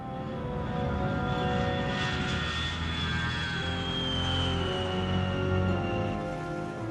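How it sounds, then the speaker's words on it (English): Transport aircraft flying on a Gulf War air bridge between the United States and Saudi Arabia, giving a steady, loud engine drone with a continuous whine that holds throughout without pause. "The transport aircraft delivered both men and material."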